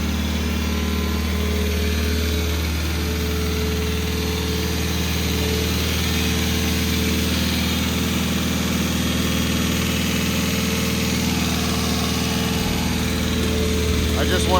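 A Suzuki Samurai with a swapped-in 1.6L 16V engine idles steadily and loudly at close range through the whole stretch, a constant mechanical drone that holds unchanged from start to finish.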